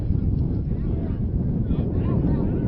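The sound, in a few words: wind blowing across an outdoor football field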